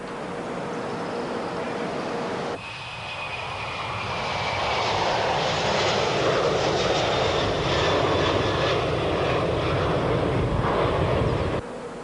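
Jet engines of a Boeing 747-400 roar steadily, a loud, continuous broadband rush that swells after a shift partway through and holds at full volume before dropping near the end.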